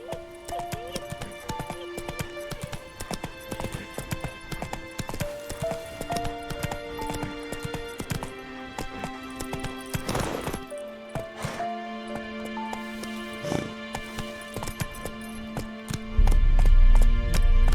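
The horse Roach galloping in The Witcher game, rapid rhythmic hoofbeats with jingling tack and an occasional whinny, steady and close, with a brief spoken command and music underneath.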